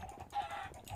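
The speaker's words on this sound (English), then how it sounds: "kill all the chickens that I kind of made with my eggs" Minecraft chickens clucking in a short burst of game sound, with soft repeated clucks over a steady background hum.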